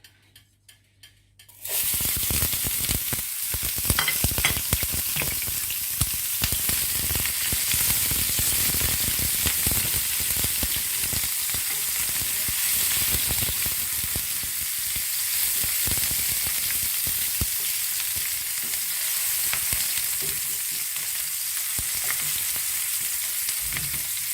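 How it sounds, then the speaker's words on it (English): Onions for Spanish paella sizzle and crackle steadily in a hot pan, a continuous dense frying hiss with scattered pops, close up and with no talking. "I'll start by frying my onions"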